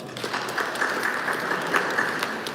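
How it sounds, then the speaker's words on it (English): Audience at a chapter launch event breaking into steady, dense applause, many hands clapping evenly at moderate distance throughout with no voices standing out. "Give them a round of applause as well."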